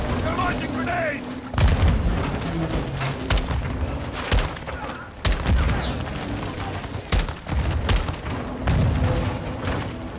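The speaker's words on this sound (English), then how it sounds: "They're launching grenades!" Grenade explosions boom in Call of Duty Modern Warfare II amid gunfire, several heavy blasts in quick succession under shouted voices.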